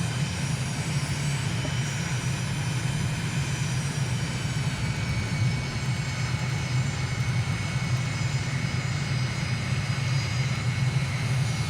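A light propeller airplane's engine drones at a steady, loud, unbroken pitch during a low pass along a runway in Microsoft Flight Simulator over the Abaco islands, Bahamas.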